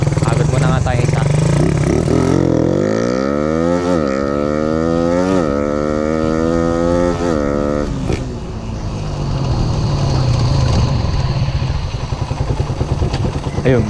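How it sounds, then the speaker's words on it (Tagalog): A cold motorcycle engine idles with rising and falling revs while its carburetor jetting is being tuned, then the idle suddenly sags and turns rough, running close and loud throughout. "Ayun, bigla nag-drop yung idle ko"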